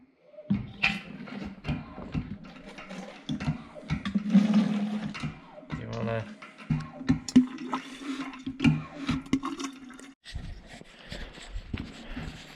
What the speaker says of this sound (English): now we're getting some oil from the drum